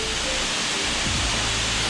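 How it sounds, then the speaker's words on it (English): A river in Tobago flows with a steady, full wash of rushing water, close and constant, while a faint low tonal hum drifts underneath partway through. "There's the river here."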